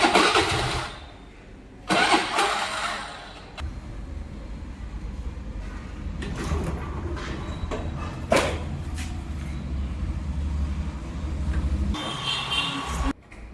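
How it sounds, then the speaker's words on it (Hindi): A motorbike engine is cranked with repeated short bursts as it fails to catch, followed by an uneven low mechanical churning that stutters and cuts out. "बाइक ही चालू नहीं हो रही है"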